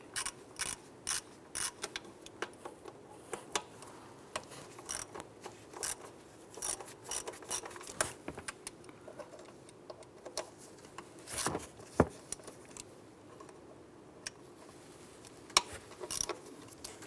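A ratchet with a 10mm socket and extension loosens the throttle body bolts on a 2015-2020 Cadillac Escalade, giving close, sharp clicking bursts with short pauses between them.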